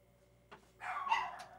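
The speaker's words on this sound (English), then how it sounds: "close that damn door. Them dogs are crazy" Dogs bark in a short burst indoors, a single yelp followed by a louder flurry of overlapping barks close by, with no talk over them.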